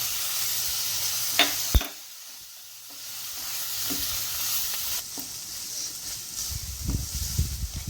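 Chopped tomatoes hit hot frying masala in a pan, giving a steady hiss of sizzling with a few clinks and stirring scrapes and a louder crackle building toward the end.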